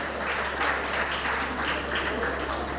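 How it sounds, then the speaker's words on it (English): An audience at a community meeting applauds for a woman who stands to be recognised, a dense, even clapping that continues throughout without speech. "Could you stand so they could give her a round of applause?"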